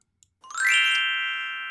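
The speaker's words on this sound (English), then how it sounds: "There's our glockenspiel chimes, which means it is story time here at SantaClausSays.net." A single bright glockenspiel chime rings out cleanly after a brief silence, swelling quickly and then sustaining with a slowly fading shimmer, signalling story time during a Christmas storytelling reading.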